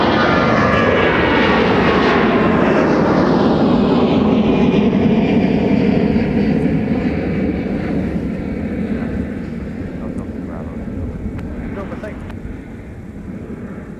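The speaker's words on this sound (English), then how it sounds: "Delta headed out to Denver, Colorado. Departing off runway 30 left." A Delta airliner bound for Denver takes off from runway 30 left at Minneapolis–St. Paul airport, a loud roaring jet whose pitch sweeps downward as it climbs away and slowly fades, with talking over it.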